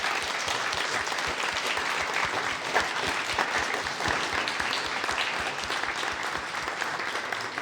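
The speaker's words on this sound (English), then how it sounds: "please share me in clapping hands and thanking all of those who did the lifting in the background" Audience at an academic symposium clapping in dense, steady applause, many hands blending into a continuous wash at moderate level, with faint low thumps underneath.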